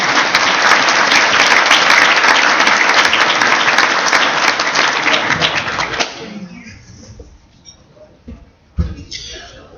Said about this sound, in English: and so please give Duane one more big round of applause.